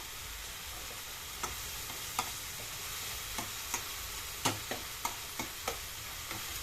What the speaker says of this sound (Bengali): এখন হালকা করে এটাকে আবার ভাজা ভাজা করছি।